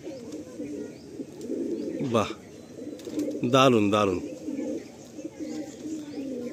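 Madrasi pigeons coo steadily in a loft, a low rolling murmur throughout, while someone speaks briefly in two short bursts close by.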